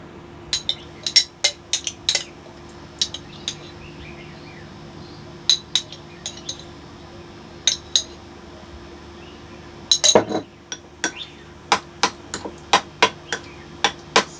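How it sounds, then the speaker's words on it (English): A utensil clinks and taps repeatedly against a bowl while mashed banana is mixed with strawberry jam, the sharp knocks coming in an irregular rhythm close by over a faint steady hum. "And this I can mix up with the strawberry jam."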